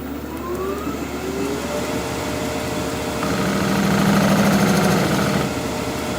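A half-inch swept-back gouge cuts a dovetail tenon on a spinning fir bowl, giving a continuous rough scraping hiss over the lathe's steady hum, swelling louder toward the end.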